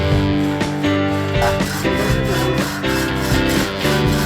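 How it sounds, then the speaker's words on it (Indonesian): A one-metre two-person hand saw cuts through a large albasia log, a steady back-and-forth rasping with rhythmic strokes, close and loud, with no talking. "saya sama si Akang ini lagi menggergaji kayunya"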